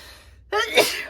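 A single sharp sneeze, close and loud, bursting out after a short quiet pause.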